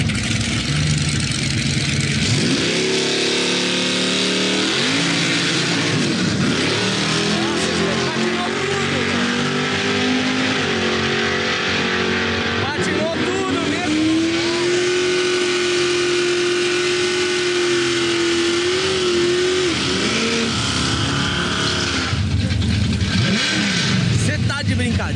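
Muscle car engines at a drag racing start in the USA, idling and then revving and accelerating loudly with rising and falling engine tones, while people talk over the noise throughout.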